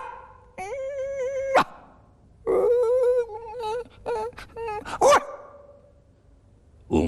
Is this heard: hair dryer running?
no